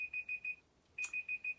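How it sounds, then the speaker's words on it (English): A timer alarm going off in two bursts of rapid, high electronic beeps, four in each run with a short pause between, clear and fairly close in a quiet room. "when the timer goes off unexpectedly, don't worry, it's fine"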